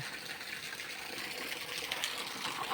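Water sprays from a hose onto a garden area, a steady hissing gush that runs continuously at moderate level, with no voices.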